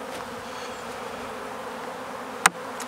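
Bees buzz in a steady close drone while a failing beehive is inspected, with one sharp click partway through.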